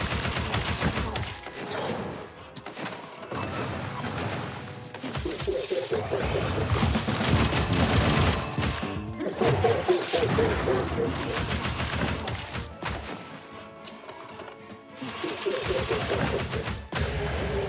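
Rapid gunfire and explosive bursts from a grenade launcher in the video game Kingdom Gun, dense and loud with a few short pauses, mixed with other game sounds.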